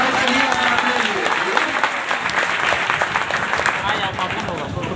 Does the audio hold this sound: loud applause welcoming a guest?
yes